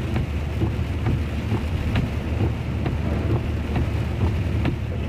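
Heavy rain pelts a car driving through a storm in Divinópolis, a dense steady hiss of water and road spray with scattered sharp drop impacts across the whole stretch, continuous and loud with no voices.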